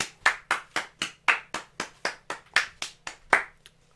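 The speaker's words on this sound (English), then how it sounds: "Can we get a round of applause?" A single pair of hands claps steadily, about fifteen sharp, evenly spaced claps close by, slowing slightly at the end.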